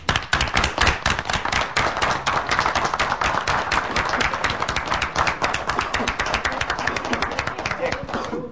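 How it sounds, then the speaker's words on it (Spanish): Audience applause at a press conference: fast, dense rhythmic clapping, steady and fairly loud throughout, with some voices mixed in. "queremos darles un aplauso a ustedes"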